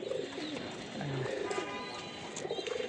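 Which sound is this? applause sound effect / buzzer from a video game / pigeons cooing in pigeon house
pigeons cooing in pigeon house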